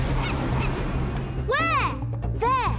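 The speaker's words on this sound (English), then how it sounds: "We've got a seagull on our tail." Cartoon seagull calls sound twice in a row, loud, sliding squawks heard close over a low rumbling background, with a few faint voice sounds before the calls.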